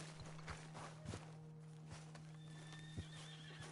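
A horse in a video game whinnies while hooves clip-clop in a steady walking rhythm, with a few sharper hoof strikes, fairly quiet, with no speech.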